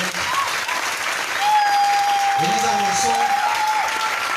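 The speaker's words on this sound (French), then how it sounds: "Est-ce que tu peux donner une acclamation au Seigneur?" French-speaking church congregation claps and cheers in acclaim, sustained applause with scattered voices and a held tone rising over the crowd.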